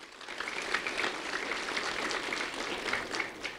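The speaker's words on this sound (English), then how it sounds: "A round of applause for Dr." An audience at a school event applauds for the superintendent of schools. The clapping is steady and moderately distant, a soft, even wash of many hands lasting the whole stretch with no voices over it.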